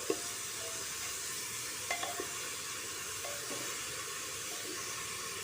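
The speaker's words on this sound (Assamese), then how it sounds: "শাকখিনি দি পেলাই অকণমান লৰাই দিছোঁ" Greens tossed into a frying pan with popped mustard seeds hiss in a steady, moderate sizzle, broken by a few light scrapes and clinks of the spatula against the pan; no talking.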